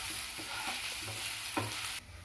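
Egg pepper fry with masala gets turned over in a hot pan, a dense steady sizzle with a few soft scraping stirs, close and loud, cutting off abruptly near the end.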